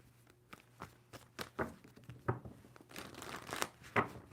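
A tarot card deck is shuffled by hand, giving a run of soft papery riffles and snaps in irregular bursts, close and fairly quiet with no talking.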